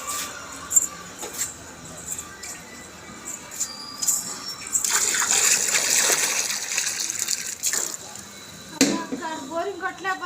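Water gushing from a hand-operated borewell pump, a brief strong rush in the middle of the clip with voices talking and light clatter around it.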